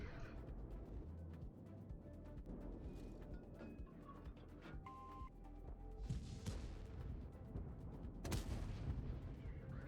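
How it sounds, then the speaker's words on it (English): Tank cannon fire at a Pantera in a tank battle video game, heavy booming shots over a dense rumbling engine bed, fairly faint overall, with a sharp report near the end. "so I shoot the Pantera."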